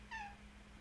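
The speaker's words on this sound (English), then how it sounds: "This kitty cat." A single short meow from a house cat, heard once near the start, clear and fairly close over a low steady hum in an otherwise quiet indoor room.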